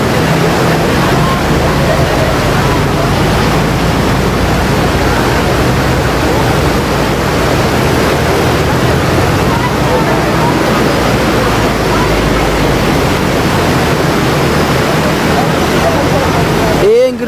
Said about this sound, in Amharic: ይሄ እንግዲያው ዝናብ የምታዩት ዝናብ ነው፣ ሀይቅ አይደለም።